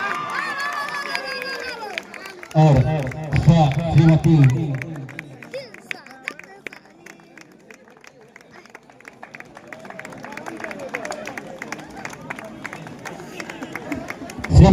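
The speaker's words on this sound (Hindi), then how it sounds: "एक बार ठोको ताली" A crowd at a village kabaddi final match claps in a burst of rhythmic applause mixed with hubbub, then fades into scattered clapping and chatter, with an announcer speaking over a loudspeaker.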